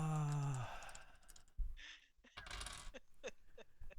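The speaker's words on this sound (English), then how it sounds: "I think I heard 8 dice." Several dice tumble and clatter across a table during a tabletop roleplaying session, a burst of small hard knocks and rattles after a brief voice-like tone, with scattered clicks continuing to the end.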